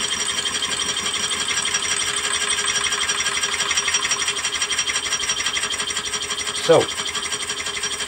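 A milling machine cuts a metal tooling plate with a steady rasping, rhythmic chatter that stays even and fairly loud throughout, broken once by a brief spoken word near the end.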